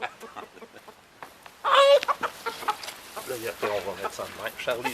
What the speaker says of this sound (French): Il y a un coq là-dedans